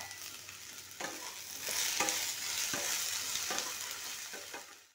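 Okra and potatoes frying in a pan for peanut okra fry, a steady close sizzle with several sharp scraping stirs of a spoon across the pan, no talk.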